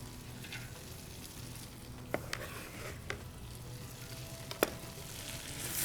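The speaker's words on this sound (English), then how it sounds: "Give that a gentle stir real quick." Pumpkin stew gets a gentle stir in a pot, a quiet low simmering hiss broken by a few sharp clinks of the spoon against the pot.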